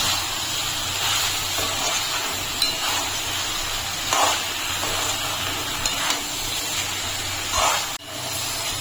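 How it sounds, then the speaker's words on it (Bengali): Marinated soya chunks frying and being stirred in a pan with partly cooked potatoes, giving a constant loud hiss and sizzle with a few brief scraping knocks and no talking. "এখন আমি মেখে রাখা সোয়াবিনটা দিয়ে দিচ্ছি সোয়াবিনটা দিয়ে একটু কষে নেবো"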